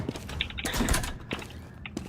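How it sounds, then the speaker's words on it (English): A door opening in CS:GO on the Cache map, a short creaking, clattering mechanism with a few clicks and a brief louder rattle in the middle, fairly close. "open the door outwards"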